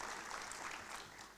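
Faint, distant applause from a forum audience, a soft continuous patter of clapping that fades slightly toward the end.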